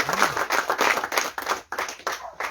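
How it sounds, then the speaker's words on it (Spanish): A church congregation claps hands together during worship, a dense, rhythmic run of loud, close claps that carries on steadily for a couple of seconds. "Dale fuerte palmas a nuestro Señor"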